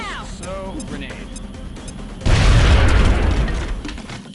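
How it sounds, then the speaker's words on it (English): A grenade blast in the game XCOM: Enemy Within arrives as a sudden loud, deep boom that rumbles and fades over about two seconds, after a stretch of game sound with a voice talking. "So, grenade."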